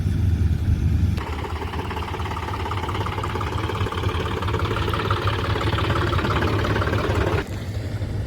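A combine harvester engine runs steadily and loudly while harvesting wheat, a constant low rumble and drone with no talking.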